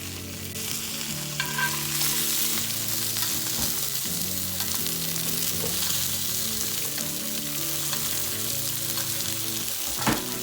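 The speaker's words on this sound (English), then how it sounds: "I add a thing of butter along with a few pieces of garlic, and I just throw a fresh stick of rosemary over the steak" A ribeye steak sizzles steadily in a hot pan with butter, garlic pieces and a fresh sprig of rosemary, a continuous close frying hiss with a few faint clinks, no talk.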